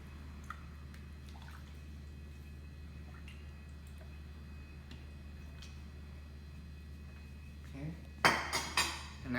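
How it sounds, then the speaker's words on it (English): Macaroni soup with riblets ladled into bowls, heard as a quiet low hum with faint scattered clinks, then a short cluster of louder pot and utensil clatters near the end. "Let's go ahead and dish some up"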